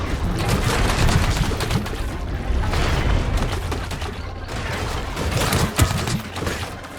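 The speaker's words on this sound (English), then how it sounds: "Bomb." Explosive blasts and booms from a bomb in the Scrap Mechanic survival crafting game, a dense continuous roar of loud detonations with sharp bursts throughout, near and heavy with no pause.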